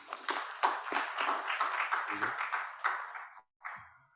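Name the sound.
audience clapping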